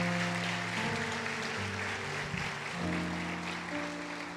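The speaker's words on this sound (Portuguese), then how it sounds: "Você pode aplaudir a Ele" Church congregation applause, moderately loud and continuous, with sustained keyboard music playing underneath.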